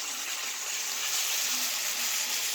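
Ribeye steak frying in a pan, a constant bright sizzle with fine crackle, close and even from start to finish with no talk over it.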